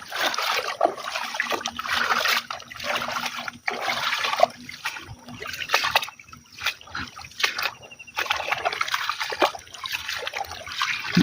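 Floodwater in a flooded farm field after five days of rain trickles and splashes steadily nearby, a continuous watery wash with brief lulls and no talk.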